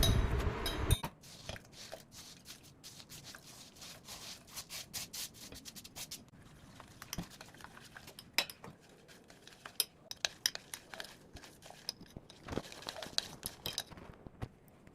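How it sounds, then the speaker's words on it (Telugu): Jaggery stirred into a milk powder mixture to dissolve it: a steady scraping and rubbing of spoon against bowl with small clinks, close and quiet, no talking. "ఈ బెల్లం మొత్తం ఆ పౌడర్ కలిపిన మిల్క్లో వేసి కరిగేదాకా మిక్స్ చేసుకోవాలి"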